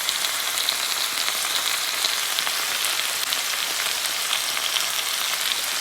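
Kale sizzles in a pan with lemon pepper, onion powder and chili pepper mixed in, a steady bright hiss with fine crackle throughout, close and without talk.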